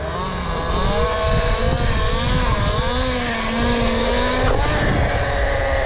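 A Talaria Komodo electric motorbike is ridden at speed. The motor whines with shifting tonal pitch over heavy, continuous wind rumble and road noise, loud and close throughout.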